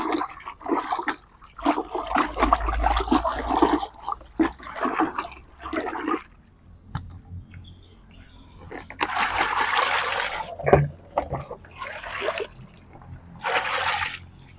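Water pours and splashes into a humic acid mixture being prepared to treat durian trees, in gushing bursts with trickles and brief pauses between them, close by, with a voice speaking briefly.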